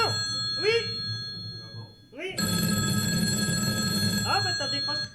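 A mobile phone rings loudly and close with a bright electronic ringtone that breaks off briefly and then sounds again, steady and sustained, while people talk over it.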